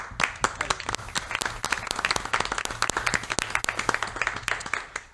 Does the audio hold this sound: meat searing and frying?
no